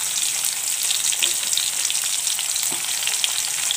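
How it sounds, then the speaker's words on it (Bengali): Garlic and onion sizzling and frying in hot oil in a home kitchen, a steady dense crackle that holds at even loudness throughout with no talk. "রসুন আর পেঁয়াজ দিয়ে দিচ্ছি।"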